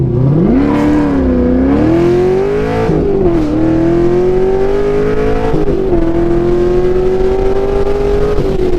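A Corvette C6 Z06 V8 engine revs hard and close, loud throaty sweeps rising and dipping in pitch several times, then holding a sustained high-rev snarl with no talking.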